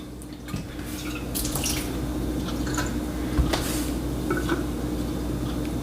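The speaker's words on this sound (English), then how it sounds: "I'm letting the water sit here in the vessel a little bit. I'm just going to swish this out." Water swished around inside an Aeropress coffee brewing vessel gives soft sloshing and scattered drips, with a few sharper splashes and light knocks against the vessel, fairly quiet and close.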